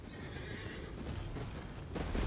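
A horse whinnies and neighs in the video game Elden Ring, with hoof clip-clops and a busy game soundscape underneath, growing a little louder toward the end.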